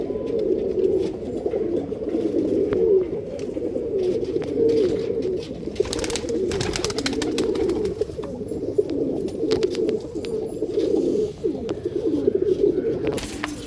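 Pigeons coo steadily and continuously at close range, a dense layered murmur from several birds kept for show in a loft, with scattered wing flaps and small clatters throughout and no talk.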